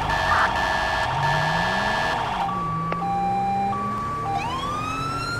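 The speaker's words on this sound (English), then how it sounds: "It is still the Code 3 Mastercom B, but I changed it to a better version of it. This one's louder and more like the real one." A Code 3 Mastercom B police siren on a Chicago police patrol car in GTA5, loud and close, first wailing and then switching to a sharp yelp and a rising tone with a short horn-like blast, heard without talk.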